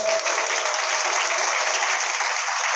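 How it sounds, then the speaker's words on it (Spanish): A church congregation at a Christian celebration breaks into loud, sustained applause, dense steady clapping from many hands filling the room throughout. "Un aplauso por eso."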